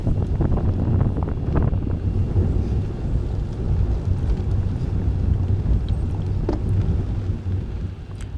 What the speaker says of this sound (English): So this is pretty much a headwind here